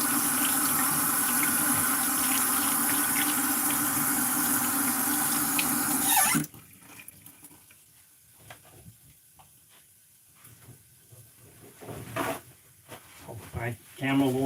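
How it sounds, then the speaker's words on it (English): Tap water runs steadily and loudly for about six seconds while hands are washed at a kitchen sink during meatball preparation, then cuts off, leaving quiet handling clatter and small knocks. "Now, I'm going to wash my hands"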